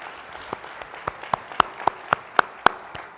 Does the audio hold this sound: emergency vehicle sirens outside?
no